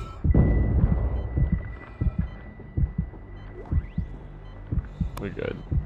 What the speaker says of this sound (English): my heartbeat's getting a little fast now